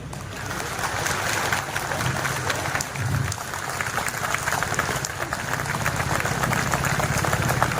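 Railway staff applauding on a lawn at a Railway Week award ceremony at the DRM office, Bhusawal division, a broad continuous wash of clapping from a large crowd, fairly distant, with a low rumbling hum beneath.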